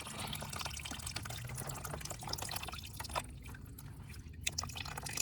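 A mix of distilled water and coolant drains from a Nissan radiator in a steady, faint trickle and drip, continuous and low in level with no talking.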